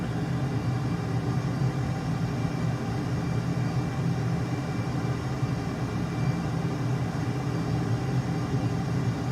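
A Boeing F/A-18 jet in Microsoft Flight Simulator 2020 drones with a steady, unbroken engine roar, low and full-bodied, holding constant in level flight with no talking.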